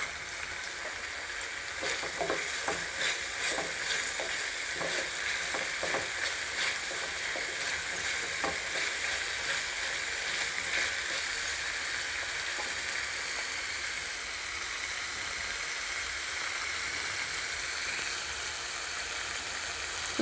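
Dried red chilies and garlic sizzle in a hot pan, a steady, close frying hiss that runs on alone with occasional crackles and faint stirring taps.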